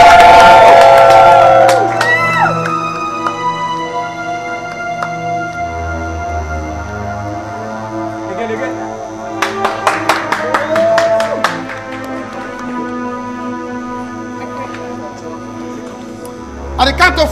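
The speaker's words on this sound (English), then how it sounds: "Let's clap, let's clap." A party crowd claps and cheers around a cake cutting, with loud bursts of clapping and whoops over music, and voices talking throughout.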